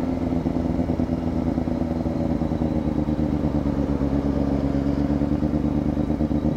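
A Kawasaki ZX-4RR motorcycle engine drones steadily while riding a mountain road in Mindoro, loud and close with constant mid-pitched rumble, some rattling, and no talking.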